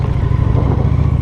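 A motorcycle on the move, a loud close engine drone with a low pulsing rumble that holds steady throughout the short stretch.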